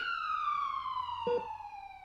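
A wailing siren sweeps steadily downward in pitch, loud and continuous, with a brief thump partway through.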